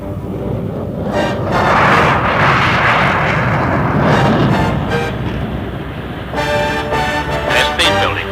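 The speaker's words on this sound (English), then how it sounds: "Concorde 1, rolling 28 left" The Concorde supersonic airliner takes off down runway 28 left, its engines a loud, continuous roar that builds and rumbles close by throughout, with voices faintly audible beneath.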